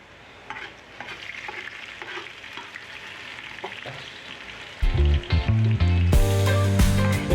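Garlic sautés in a pan for papaitan with a crackling sizzle and scraping stirs, until a loud tonal, music-like sound takes over for the last couple of seconds.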